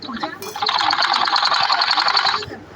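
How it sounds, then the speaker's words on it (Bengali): A sewing machine stitches through fabric folded over twice, running steadily for about two seconds after a brief starting click, loud and close with no talk over it. "ঠিক আছে, এখন সেলাই।"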